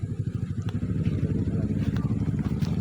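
Motorcycle riding through a shallow, partly dried creek on a mountain trail, its engine rumbling steadily and close with some clatter over the rocks, and no voices.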